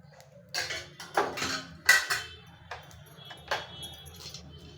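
A small pan is set down on a home kitchen stove and oil is added, giving a few sharp metallic clanks and knocks spaced irregularly, close by, with no talking.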